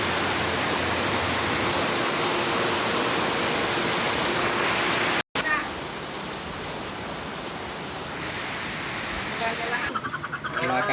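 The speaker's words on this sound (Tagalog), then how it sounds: "Malakas ang ulan ngayon" Steady, dense hiss of heavy rainfall during a typhoon fills the whole clip, with a brief dropout midway and faint voices near the end.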